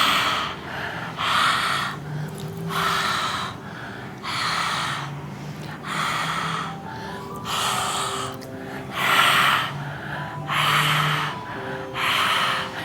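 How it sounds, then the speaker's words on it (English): Heavy, rhythmic mouth breathing with the tongue out during a kundalini yoga kriya, each loud huff close and strong, repeating steadily about every second or two over a faint musical drone. "stick out your tongue and begin to breathe in and out through the mouth"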